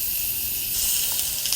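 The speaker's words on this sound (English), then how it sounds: "listen to the sizzle of this beautiful Santa Maria style grill" Skirt steak sizzling on a Santa Maria style grill, a steady, close, continuous hiss and crackle with no voices.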